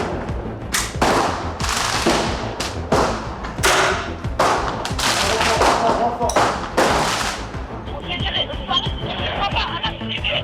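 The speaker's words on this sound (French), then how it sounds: "Visés par des mortiers d'artifice, les policiers répliquent à coups de lanceurs de balles de défense." Rapid, irregular bangs and thuds from firework mortars fired at police and police defence ball launchers firing back during street unrest, loud and close over a constant noisy crowd hubbub, the bursts thinning out toward the end.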